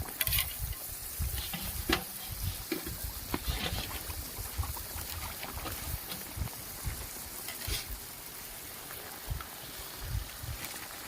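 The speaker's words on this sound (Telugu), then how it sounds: "అరిసెలు ఆయిల్ వేస్తున్నామండి" Village-style jaggery ariselu fry in a pan of hot oil with a continuous close sizzle, broken by soft scraping and stirring knocks from a utensil.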